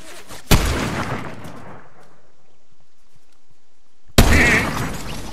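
Two loud sniper rifle shots ring out in a Peter Griffin headshot scene, each a sudden heavy crack with a long decaying tail, spaced about four seconds apart.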